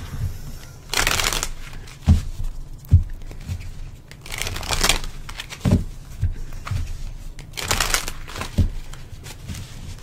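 Oracle cards shuffled in several loud bursts of riffling, with soft taps and handling noises between them, close to the listener and with no speech.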